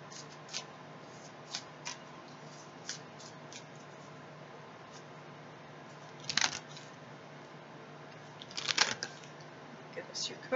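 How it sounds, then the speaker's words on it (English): Soft, intermittent rustling and crisp riffling bursts of tarot cards being shuffled, with a couple of louder flutters against quiet room tone. "your cards aren't even willing to shuffle"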